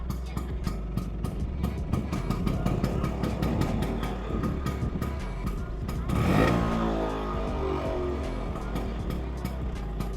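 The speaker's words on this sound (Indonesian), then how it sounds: "suara khas motor klasik, yaitu motor Vespa Latin Sprint 150 tahun" 1978 Vespa Sprint Latin 150 two-stroke scooter idling close by with a rapid, even popping putter, briefly rising in a short rev near the middle before settling back to idle.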